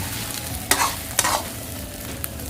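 Beaten eggs frying in a pan for fried rice with pork cracklings give a steady, close sizzle, broken by two sharp scraping stirs and a faint tap near the end.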